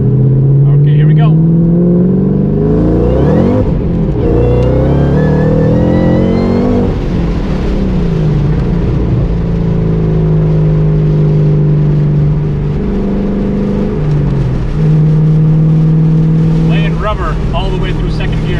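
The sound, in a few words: 2013 Shelby GT500 accelerating through second gear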